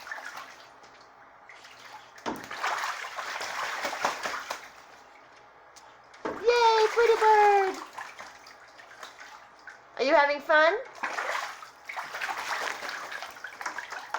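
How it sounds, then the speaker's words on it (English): A pet goose splashes and bathes in bathroom bathtub water, with bursts of splashing and flapping that come and go, and someone talks to the bird over the water noise. "when they take baths and showers and stuff, and they're gonna splash you"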